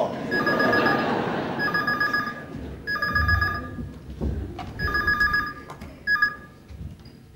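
An electronic telephone ringer trills in repeated bursts, fairly loud, with a low background murmur and a brief gap between rings.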